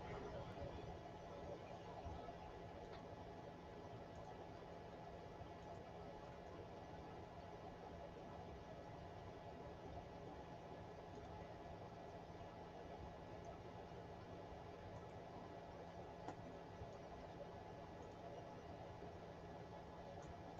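A Creality Ender 5 Pro 3D printer runs nearby with a steady, even hum and faint mechanical whirr, constant and unbroken throughout with no talking.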